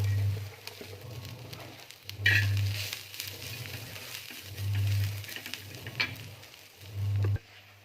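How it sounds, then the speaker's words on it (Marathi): Onion dry-roasting in a pan while making a fresh pigeon pea curry, with a soft crackle and patter of gentle sizzling and a few stirring clinks under a low, pulsing hum. "आता आपण कांदा भाजून घेणार आहोत"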